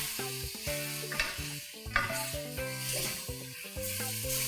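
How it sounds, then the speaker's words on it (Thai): Rice noodles for Isan-style Korat fried noodles are stir-fried in a pan, giving a continuous close sizzle with scraping stirring strokes over tonal background music. "เราก็ใส่เส้นลงไปค่ะ ใส่สักหนึ่งกำมือนะคะ ใส่ลงไปผัดค่ะ"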